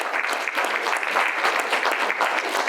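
Dense, steady applause from an audience at a senior center fashion show in Huntington, NY, continuous broadband clapping filling the whole stretch at even loudness.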